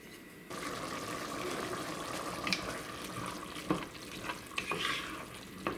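Steady sizzling of beef frying in a pot, with occasional clinks and stirring sounds over a continuous hiss, no talking.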